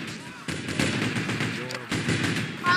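Rapid gunfire crackles through a Garry's Mod match, a dense stream of close, sharp shots repeating without pause, with a voice talking over the shooting.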